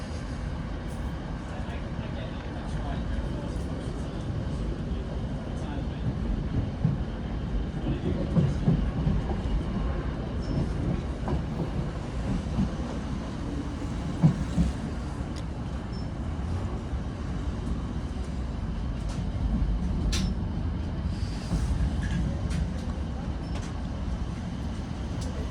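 Northern service train pulling into Stockport station on the Manchester Piccadilly to Buxton route, heard from on board as a steady low rumble of wheels and running gear with faint rattles, continuous throughout.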